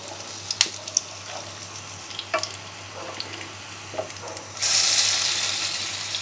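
Food fries in a pan over the flame, a low steady sizzle with scattered light clicks and pops, then a louder hiss swelling in the final seconds, close and without speech.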